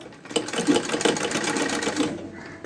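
Close, steady whirring of a sewing machine stitching a blouse, with rapid regular needle strokes running almost the whole time before slowing and fading at the end.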